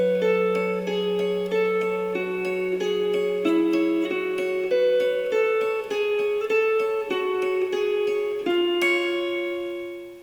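Electric guitar playing the second section of a main theme: a sustained low drone under a slow, steady line of ringing picked notes with eerie major seventh intervals, continuous and close for about ten seconds.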